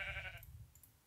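A sheep in the video game Minecraft gives a short, soft bleat, faint and brief, with no talk over it.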